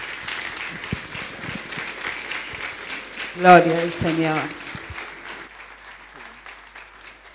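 A congregation applauds at an evangelical miracle crusade to welcome a prophetess, the clapping steady and moderately loud while someone speaks over it, swelling briefly near the middle before fading.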